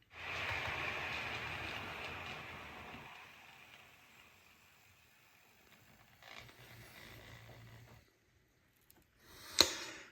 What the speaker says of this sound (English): We'll move the underground train into that platform just to see what happens here.